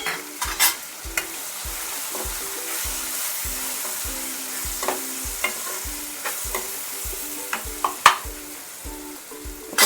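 Turmeric and coriander powder get stirred into fried tomatoes for poha, with a steady sizzle under regular scraping strokes about twice a second, close and fairly loud.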